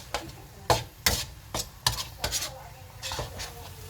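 Curry ingredients for homemade chicken curry being mixed in a metal wok, with a handful of sharp clanks and scrapes in uneven rhythm, close and moderately loud, no one talking.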